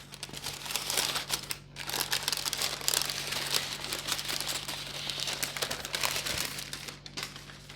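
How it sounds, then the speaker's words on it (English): The bottom sheet of a rolled pie crust for a bourbon pumpkin pie peels away in a continuous close crinkling rustle, like parchment or plastic wrap, over a low steady hum with no talking. "We're just going to peel off the bottom layer here."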